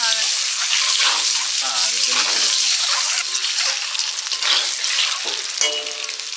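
Teasel gourd and shrimp sizzle loudly in mustard oil in a pan, a dense steady frying hiss throughout with brief voices talking underneath.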